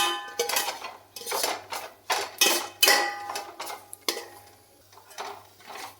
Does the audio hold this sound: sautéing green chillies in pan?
yes